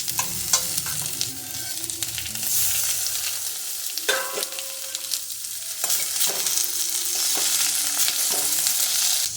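Chopped tomatoes for an idli and dosa chutney hit hot oil in a frying pan, giving a loud steady sizzle with scraping stirs and clinks of a spatula at close range, and no talking.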